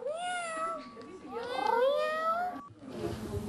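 A robotic pet cat gives a run of close, loud electronic meows with rising and falling tones, several calls in quick succession, followed by a brief break and a burst of broadband noise at the end.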